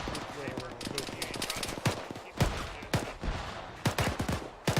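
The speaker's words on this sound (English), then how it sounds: "There's some shots coming in." Gunshots crack out during a military field training exercise, some single and some in quick bursts, sharp and moderately near, over steady outdoor noise with voices talking in the background.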